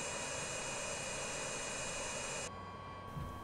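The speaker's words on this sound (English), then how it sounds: "You'll hear the turbine start to spin up," A simulated MV-22 Osprey turbine in MSFS 2020 whines steadily with a broad jet-like roar, then the tone drops and shifts abruptly partway through, leaving a lower hum with a thin steady whine.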